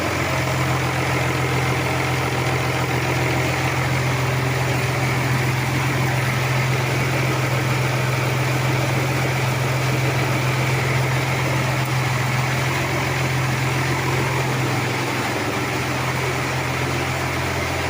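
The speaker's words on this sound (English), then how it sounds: "So the tractor's running, exhaust's working fine, taking most of the exhaust gases away." Diesel engine of a Case 1594 Hydra Shift tractor idling steadily and close by, a constant low rumble with a droning hum and no pauses or talk throughout.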